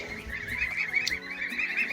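Geese honking and cackling together indoors in a continuous noisy chorus, close and fairly loud, with shuffling in the background.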